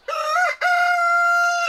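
Two rooster crows close by, a short call followed by a longer sustained one, loud and clear with no talking.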